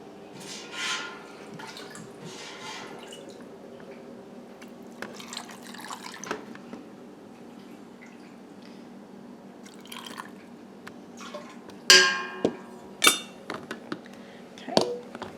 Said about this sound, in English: So I'm just going to ladle this in here.